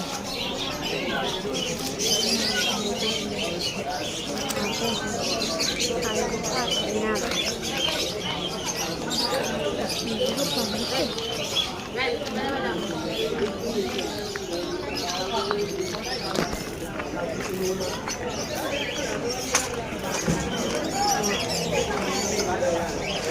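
Many birds at a weekend pet market in Malabon, pigeons and doves cooing alongside chirps and squawks, a continuous layered chorus, with people talking throughout.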